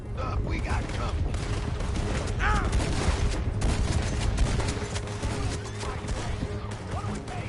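Video game gunfire from Red Dead Redemption 2 during a stagecoach robbery shootout: dense, continuous shots and clattering mechanisms fill the scene while voices talk over the din.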